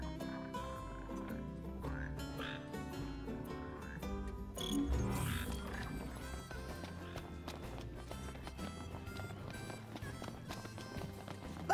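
Red frogs croak and chirp in a marshy slough in the video game Final Fantasy XV, with repeated short calls layered over game music and ambience, plus a louder burst of activity midway.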